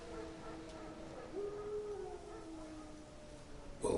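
Wild dogs in a video game howl in the distance, long drawn-out wavering cries rising and falling over a faint ambient hush, fairly quiet throughout.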